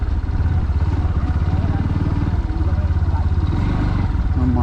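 A motorcycle stands with its engine running as it is parked in the Javadhu hills, a loud, close, steady chugging idle with a fast pulsing rhythm, while people talk over it.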